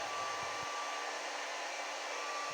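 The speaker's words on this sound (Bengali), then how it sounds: "ড্রায়ার যখন আছে তাহলে চুলগুলো একটু শুকিয়েই নিয়ে যাক" A hair dryer blows steadily on someone's hair, its continuous close whooshing whir running alone and evenly throughout.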